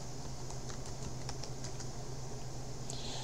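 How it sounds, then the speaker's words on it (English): A password is typed on a computer keyboard, a short run of light, quick key clicks over a steady low hum, close and fairly quiet, with no talk. "Just type it in and hit enter."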